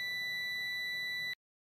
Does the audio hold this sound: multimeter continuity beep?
yes